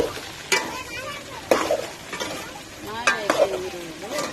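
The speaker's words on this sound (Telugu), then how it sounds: "ఇక అవి మంచిగా బెండకాయలు బాగా ఫ్రై అయితే కర్రీ ఏదే అయిపోయింది." Okra frying in a pan at home while being stirred, with a few distinct scraping stirs over a soft steady sizzle; faint voices are heard in the background.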